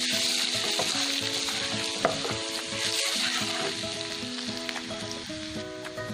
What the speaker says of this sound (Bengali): রসুন কুচিটা খুব ভালো করে গোল্ডেন করে ভেজে নিতে হবে।